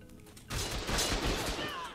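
Heavy turrets in the game ARK open fire together in a loud, dense volley of rapid shots that blur into a continuous roar after a quieter start.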